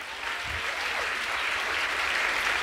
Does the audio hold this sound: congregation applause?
yes